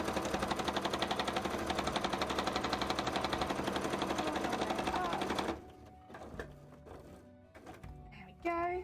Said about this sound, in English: It is stitching a little unusually.